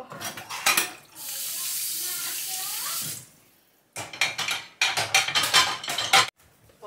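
Tap water runs steadily into a kitchen sink for a couple of seconds, then dishes are scrubbed and rinsed in short splashing bursts with light clatter of plates.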